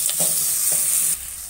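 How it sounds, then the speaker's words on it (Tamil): Steady hissing sizzle of onions frying in a pan, with a few soft scrapes of stirring near the start, close up. "வெங்காயம் பொரிஞ்சு வரட்டும்."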